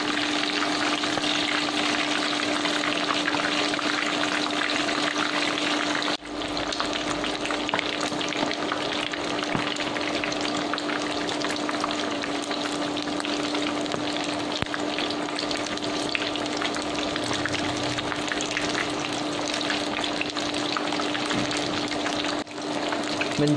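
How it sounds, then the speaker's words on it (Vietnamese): Continuous loud sizzling and bubbling of chicken deep frying in hot oil over high heat, steady and close throughout with no talking. "Rồi mình sẽ chiên với lửa lớn từ từ cho nó vàng nha."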